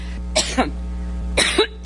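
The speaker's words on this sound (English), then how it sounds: "she was struck by a coughing fit" A woman coughing in a fit, two separate bursts of harsh hacking coughs, each a couple of quick barks, close over a low steady hum.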